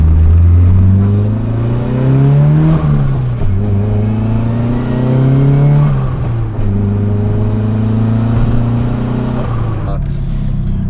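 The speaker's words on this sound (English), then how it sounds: "But I like the way this turbo spools up though." Nissan 300ZX Z32 car fitted with an SR engine and turbo, revving repeatedly in steady rising sweeps that climb and drop back, loud and close, with a turbo spooling up as the revs build.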